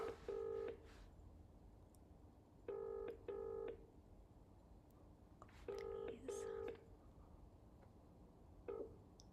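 Bursts of telephone keypad tones beep in short clusters with quiet gaps between, fairly faint and heard alone.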